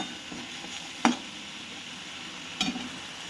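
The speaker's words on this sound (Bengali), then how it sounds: "টমেটো বাটাটাকে ভালো করে একটু কষিয়ে নিতে হবে।" Tomato paste cooking down in a pan for a Bengali pabda fish curry, giving a steady soft sizzle with two brief scrapes of a spoon stirring it, fairly quiet and close with no talking.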